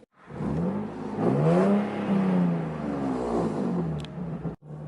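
A widebody Nissan 370Z track car pulls away with a loud, rising engine note that climbs, eases off and holds a steady drone for several seconds before cutting briefly near the end.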